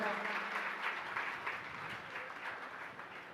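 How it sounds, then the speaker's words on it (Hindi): Faint, sparse audience clapping at a religious discourse, a thin soft patter of hands that stays quiet and steady throughout, with no voice over it. "तुम तालियां भी ऐसी बजाते हो जैसे मरीज बजाते हो।"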